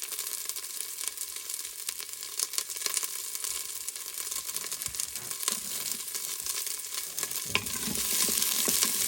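Crushed garlic sizzles in oil inside a slow cooker, a soft, continuous frying crackle with scattered pops and stirring noises that grows a little louder toward the end.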